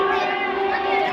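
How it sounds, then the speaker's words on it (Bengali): A dense crowd of people at Baharampur railway station, heard as a steady, close murmur of many voices blended together. "দেখুন কি হারে ভিড় মানুষের।"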